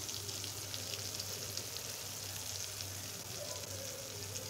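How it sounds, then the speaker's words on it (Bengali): Eggplant slices fry in oil over medium-low heat, making a steady, continuous sizzle heard up close with no talk. "ভেজে নিতে হবে বেগুন ভাজাগুলি।"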